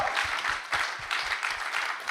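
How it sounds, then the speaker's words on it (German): Congregation applauding inside a church during an Easter service, a steady wash of many hands clapping with a faint rhythmic low thump pulsing underneath throughout. "lass uns Gott einen Applaus geben"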